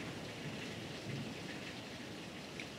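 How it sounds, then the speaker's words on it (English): Steady rain hisses during a thunderstorm, with a low thunder rumble blending into the constant wash of the downpour, fairly faint and even throughout. "the storm's supposed to be over in another 5 minutes"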